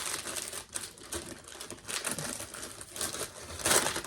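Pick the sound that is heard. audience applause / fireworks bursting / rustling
rustling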